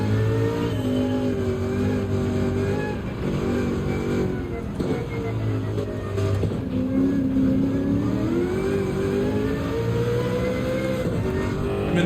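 A Sauber race car engine drones loud and steady at Le Mans' Circuit de la Sarthe in Gran Turismo 7, its harmonic whine rising and falling through gear changes and throttle shifts, continuous and close for the whole stretch.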